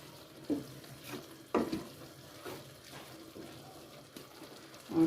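A spoon stirs minced meat and green beans with added water and ground garam masala in a pan, making a few soft scraping clacks over a faint sizzle.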